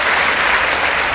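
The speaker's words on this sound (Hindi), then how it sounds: "एक बार तालियां बजा दीजिए" Dense, steady applause from an audience at a Hindi poetry recital, loud and even, filling the whole short stretch without a break.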